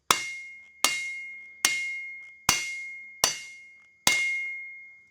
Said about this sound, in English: when you're coming down with a hammer